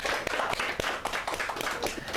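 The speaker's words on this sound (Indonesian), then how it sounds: "Tepuk tangan buat Fadlan" A small talk-show audience claps for Fadlan, giving brief, patchy, moderately faint applause with scattered individual claps.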